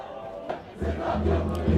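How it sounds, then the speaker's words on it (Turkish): Football supporters at a Kahramanmaraş İstiklal Spor home match chant from the stands, a sustained rumble of many voices rising steadily after a brief quieter moment. "Tribünlerden de tezahüratlar yükseliyor."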